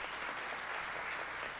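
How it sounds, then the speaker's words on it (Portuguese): A crowd applauding at an event marking a national day against endometriosis, with dense continuous clapping that holds steady throughout at moderate volume. "Mais uma salva de palmas"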